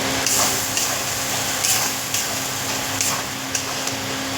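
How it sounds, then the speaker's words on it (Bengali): Food being stirred steadily in a pan on a stove over lowered heat while making kachori and ghugni, a soft continuous scraping and sizzling texture with faint repeated clicks of the utensil, close and alone without talk. "ঘন ঘন অনবরত নাড়তে হবে"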